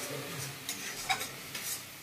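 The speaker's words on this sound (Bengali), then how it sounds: "একটু নুন দিচ্ছি আর একটু হলুদ দিয়ে দেবো, দিয়ে এটাকে ভালো করে কষাতে হবে।" Salt and turmeric being sautéed in oil in a pan for lote fish bhorta, a continuous close sizzle with a few light clicks from stirring.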